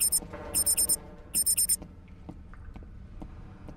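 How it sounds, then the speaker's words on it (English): Electronic beeping in the Batman: Return to Arkham Asylum video game comes as two quick bursts of four to five sharp high beeps each, then fades under soft low game sounds. "I can't run, it starts beeping."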